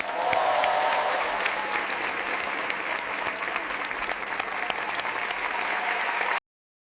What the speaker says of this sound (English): I clap my hands.